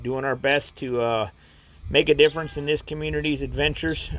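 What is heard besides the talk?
No everyday noises stand out.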